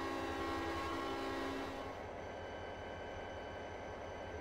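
Metro North electric locomotive in Trainz Simulator 2, sounding a sustained multi-tone horn for about two seconds over a low running rumble, which then continues alone and fainter, with no talk.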